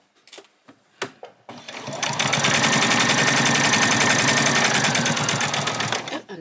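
A sewing machine stitching an apron, starting after a few light handling taps and then running in one continuous, fast, close-up mechanical whir for about four seconds before stopping.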